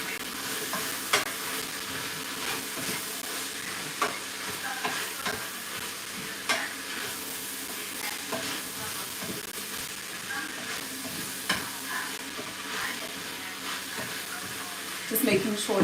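A spoon stirs onion, cabbage and potato in a soup pot, producing soft scraping and a low frying sizzle with occasional sharper knocks against the pot, heard up close.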